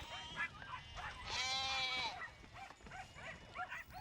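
Sheep bleat during loading onto an outback road train, one long wavering bleat standing out near the middle among shorter calls and dog-like barks over a steady background of livestock noise.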